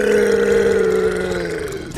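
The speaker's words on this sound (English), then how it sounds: "let me go for a massive burp" An animal character in GTA 5 lets out a long, loud, guttural burp that holds a steady low drone for about two seconds before cutting off abruptly.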